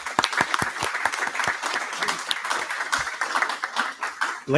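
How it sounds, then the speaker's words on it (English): A meeting audience claps for a school marching band, with a modest crowd of sharp, distinct hand claps in an uneven rhythm, fairly close and steady throughout. "we should just give them a round of applause"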